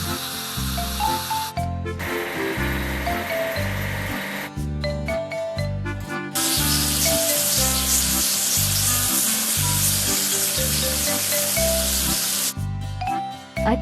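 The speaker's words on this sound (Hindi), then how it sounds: "चलिए स्प्रेयर ट्रक को धोएं।" Spray-washing of a sprayer truck in a farming video game: broad hissing water spray in long bursts, switching on and off, layered over a steady looping background music track.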